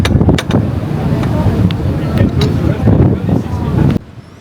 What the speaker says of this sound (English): it was so windy out there that we had to move inside